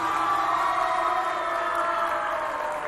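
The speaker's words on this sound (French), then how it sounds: "Applaudissez bien fort pour vous." A youth audience from a neighbourhood community centre claps and cheers in a hall. The dense, steady roar of applause and whoops holds loud and close for the full three seconds.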